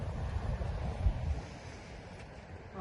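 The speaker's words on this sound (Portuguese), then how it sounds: "Chegamos no mar, chegamos na praia" Sea waves at a beach make a steady rushing wash with a heavy low rumble and some wind buffeting on the microphone, continuous and fairly near, with no voices.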